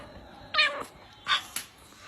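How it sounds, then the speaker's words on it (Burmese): A small cat meows twice at close range, two short, clear cries less than a second apart, followed by a brief faint chirp in an otherwise quiet room. "အဲ့ကြောင်လေးနာမည်က ကြက်မပြေလို့ပေးတာ"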